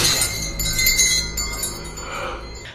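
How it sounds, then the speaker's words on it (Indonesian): A bell rings with bright, shimmering metallic tones that linger and fade over a faint background hum. "mendengar lonceng yang terikat ke si wanita tersebut"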